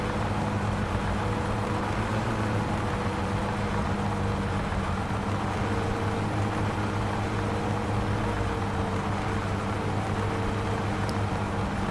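A car engine drones steadily at cruising speed on a drive in My Summer Car, a warm engine running with nitrous oxide, with a low even hum and hiss throughout.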